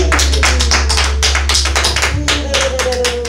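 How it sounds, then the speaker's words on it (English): A church congregation at a revival service claps loudly and rapidly in a dense, rhythmic run of hand claps, steady throughout over a low electrical hum. "Give God a great big hand clap."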